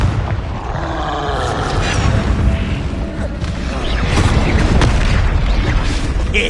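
A Confringo fire spell explodes in a Harry Potter video game, a loud roaring boom that swells and rumbles continuously for several seconds, heavy and close.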